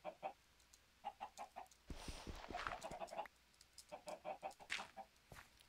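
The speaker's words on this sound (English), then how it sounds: "At least my chickens are still working fine." Chickens clucking in a survival crafting video game, a run of short, bright clucks in quick bursts, then a busier stretch of overlapping noise before the clucks return, fairly faint overall.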